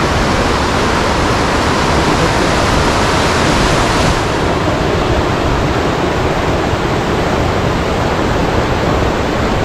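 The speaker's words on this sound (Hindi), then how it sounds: "ये बिल्कुल दरिया का किनारा है, ये पानी बह रहा है" A river flows along its bank in Kalam, Swat, making a loud, continuous rushing wash that fills the whole stretch without a break.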